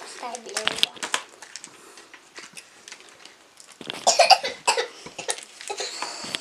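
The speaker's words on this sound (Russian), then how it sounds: "Королюся, не кашляй." A young child coughs several times in short bursts close to the mic while unpacking toys, with an adult speaking and plastic rustling around it.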